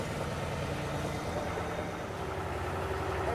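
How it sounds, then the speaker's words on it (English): A tractor engine running in snowy farm conditions, a steady low rumbling idle that stays close and constant throughout, with no talking. "I'll pull through with the tractor"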